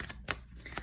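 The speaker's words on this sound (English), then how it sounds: "I'm going to go ahead and start shuffling" A deck of tarot cards is shuffled in a few quick, soft riffling bursts, faint and close with no talking.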